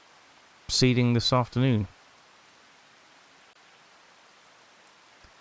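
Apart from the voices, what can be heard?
rain falling in Farming Simulator 25 video game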